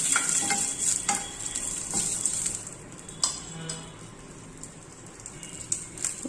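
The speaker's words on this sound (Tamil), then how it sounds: "அதுக்காண்டி தான் லாஸ்ட்டில் கருவேப்பிலையை ஃப்ரை பண்ணி வச்சுருக்கேன்." Curry leaves frying in hot oil for ven pongal crackle and sizzle with a steady hiss, broken by light spoon scrapes and clinks against the pan, close and moderately loud with no talking.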